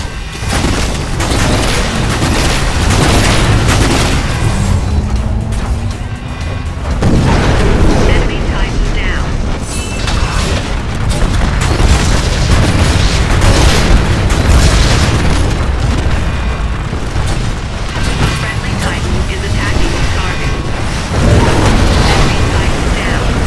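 Explosions and heavy booms from a Titanfall Frontier Defense match, loud and dense throughout, layered with game effects and intermittent voice chatter.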